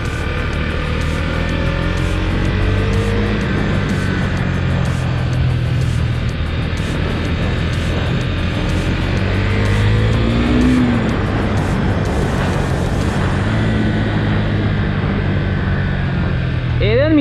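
A Husqvarna Svartpilen 401 motorcycle engine drones steadily and loudly through the whole ride, with a continuous low hum and a slight rise in pitch near the end. No one speaks over it.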